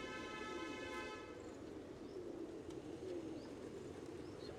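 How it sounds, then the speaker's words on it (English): A flock of pigeons coos softly and steadily at a mosque in Jubilee Hills, Hyderabad, under a low outdoor hum, with a brief tonal whine fading in the first second. "I'm surrounded by flocks of birds, pigeons soaring in every direction."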